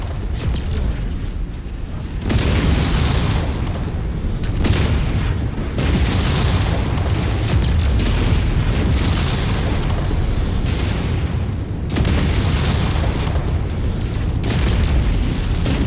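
Repeated heavy missile explosions and booming impacts from a video game battle, loud and continuous with dense rumbling bursts through the whole stretch, no talk over them.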